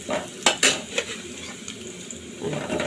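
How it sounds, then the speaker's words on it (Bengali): Whole cumin seeds tempering in hot oil in a pan, with a soft sizzle under a few sharp metallic clinks of a spoon against the pan early on, followed by gentle stirring. "এই তো জিরা, আস্ত জিরা আমি ফোড়ন দিলাম"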